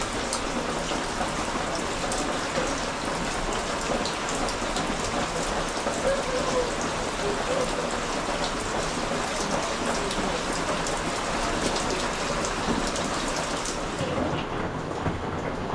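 Heavy rain falls in a steady, dense patter on surfaces nearby, continuous throughout with no one speaking.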